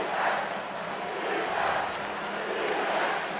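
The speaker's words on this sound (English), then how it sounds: "the only noise we hear right now is the Florida State small section in the far left corner chanting defense" A small section of Florida State fans in the far corner of a college football stadium chanting "defense" against Clemson, a distant, swelling crowd chant rising and falling in steady waves, with no talk over it.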